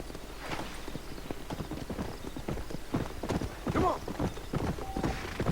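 Horse hooves clip-clopping in the video game Red Dead Redemption, a steady rhythmic trot with a brief whinny, under someone talking.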